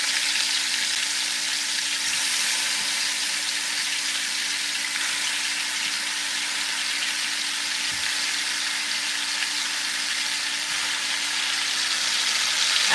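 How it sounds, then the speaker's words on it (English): Turkey necks searing in a pot give a steady, broad sizzle that holds evenly throughout, close and fairly loud with no talking. "So it's time for me to put sear up my meat."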